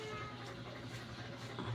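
A cat meows softly near a rice cooker in a home, a faint drawn-out mew over low background hum, with a person murmuring nearby.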